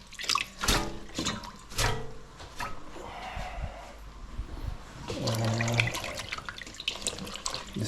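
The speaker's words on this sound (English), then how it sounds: "Wash the parsley." Fresh parsley rinsed under a running kitchen tap, water splashing and spattering into a sink in close bursts that swell and ease, with drips and light handling between gushes and no voices.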